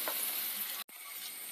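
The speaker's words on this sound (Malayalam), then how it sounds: "അപ്പം നമ്മൾ ഒരു മീഡിയം ഫ്ലെയിമിലിട്ട് പതുക്കെ വറുത്ത് കോരിയെടുത്താൽ മതി." Fish fries in oil on a medium flame for a Kerala fried fish curry, a dense, close hissing sizzle that runs steadily and briefly cuts out for an instant.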